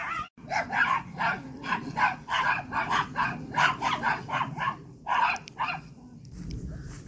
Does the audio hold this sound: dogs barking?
yes